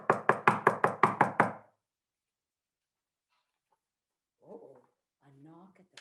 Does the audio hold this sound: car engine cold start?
no